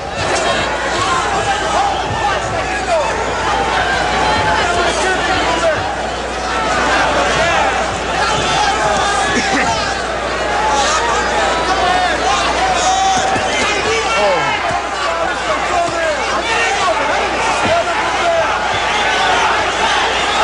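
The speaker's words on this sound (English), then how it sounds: "Listen to the crowd now" Boxing arena crowd at a Julio Cesar Chavez versus Ruben Castillo fight, a dense, loud roar of cheering and shouting that swells and holds steady throughout, with broad crowd noise and no clear single voice.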